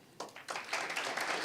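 An audience at an on-stage talk event starts clapping, individual claps quickly swelling into soft, scattered applause at a moderate distance, still building as the clip ends.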